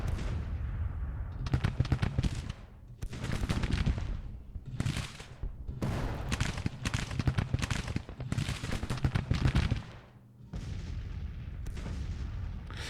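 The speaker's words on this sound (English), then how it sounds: "Actually taking substantial gunfire." Massed musket and artillery fire from a Civil War strategy game battle crackle in dense repeated bursts, loud and continuous with brief lulls between volleys.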